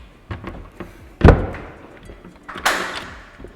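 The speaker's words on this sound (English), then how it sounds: "So let's go through this door." House door opened in a modern home in Marikina, a loud close thump of the latch and handle followed by a brighter scrape and swing a second later, with quiet room sounds before it.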